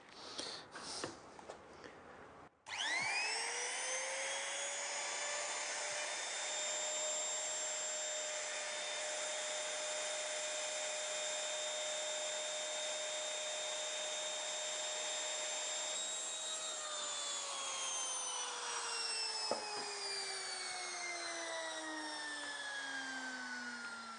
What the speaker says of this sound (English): As you can see, the electric router is much quicker.